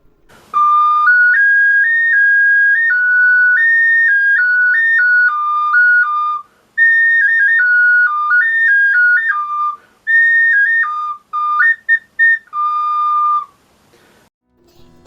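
A Ukrainian folk whistle, a sopilka or svystunets, plays a bright, loud, stepping melody of held notes in phrases, with short pauses and quick bursts toward the end.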